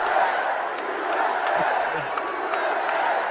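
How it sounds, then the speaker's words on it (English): A large crowd in a sold-out arena roars continuously, a dense wash of cheering and shouting at steady loudness with a few scattered whoops. "Gigantic crowd."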